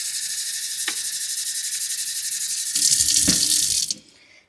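Tap water pours into a bowl being filled to rinse morel mushrooms, a steady hiss of running water that grows louder and splashier partway through, then cuts off abruptly near the end.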